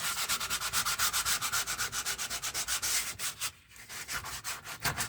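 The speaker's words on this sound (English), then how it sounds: "I set about sanding down the polyfiller" Boards coated with polyfiller being sanded by hand, a steady back-and-forth rasping of rapid, even strokes heard up close, with a brief pause before the strokes resume.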